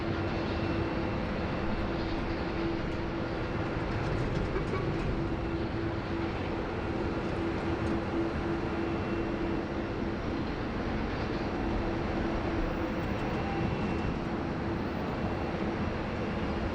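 A Qantas airliner departing runway 16 right at Sydney Airport gives a steady, distant jet roar with a faint sustained tone through it, a broad, even rumble with no talk over it.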